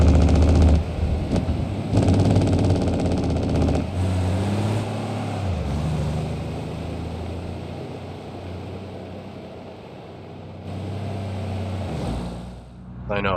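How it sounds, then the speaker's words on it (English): A loud truck engine brake in BeamNG.drive rumbles on a downhill run, its low drone rising and falling in bursts while someone talks over it. "Those of you that love engine brakes,"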